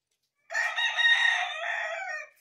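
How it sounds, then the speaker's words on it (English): Rooster crowing once nearby at a rural workshop, a loud drawn-out cock-a-doodle-doo lasting about two seconds, clear and alone against silence. "Ignore that stupid rooster."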